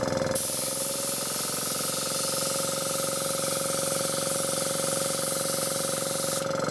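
A compressor-driven airbrush spraying over a stencil makes a loud, continuous close-up hiss with a faint steady tone. It starts abruptly, holds evenly for about six seconds, then cuts off, with no talking.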